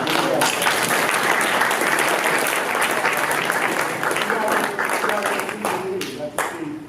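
An audience applauds at a community gathering, dense sustained clapping from a crowd lasting several seconds, then thinning out toward the end.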